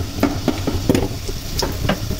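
Chopped onion sizzles in hot oil for kosha mangsho, beef cooked with whole spices, with close, repeated scraping and stirring taps over a steady frying hiss.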